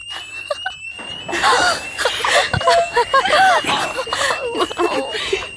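A school fire alarm rings as a steady, piercing electronic tone through the whole stretch, while girls shout, scream and laugh close by.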